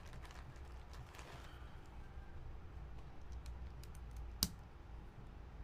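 Soft, quick keystrokes on an M0110 keyboard fitted with lavender switches, 3-stage springs and a zebrawood plate patter faintly and close up, with one sharper click near the end.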